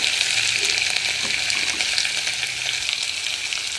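Ivy gourds (tindora) fry in a pan with a loud, steady, close hiss of sizzling oil that runs without a break.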